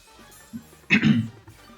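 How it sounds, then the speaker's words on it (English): A single short, rough throat-clearing burst up close, preceded by a small murmur, otherwise quiet. "gotta clear my throat"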